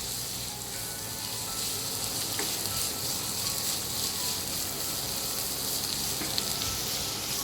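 A tablespoon of ginger, garlic and green chili paste with two small green chilies frying in a pan, making a steady, close sizzle with faint scrapes of stirring and no talk.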